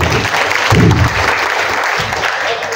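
An audience at a community gathering in Jalgaon applauds steadily, a dense and loud wash of clapping from many hands that fills the whole stretch. A voice briefly sounds over it.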